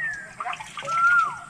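Water is poured and collected on a rural farm. A continuous rushing splash swells and dips, with a faint whine behind it.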